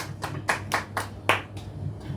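A small audience at an Urdu poetry gathering claps in welcome, several sharp separated claps and short sparse bursts rising and falling over a couple of seconds, fairly close.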